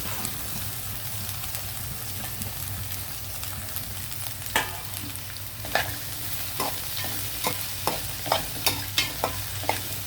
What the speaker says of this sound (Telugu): ఇప్పుడు మనం బెండకాయలు, కరివేపాకు కూడా వేసేద్దాం మొత్తం అని.